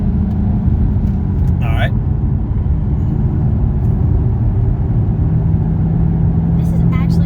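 A Ford Shelby GT500 driving in third gear gives off a steady, loud low engine rumble from inside the cabin, while a person speaks briefly over it.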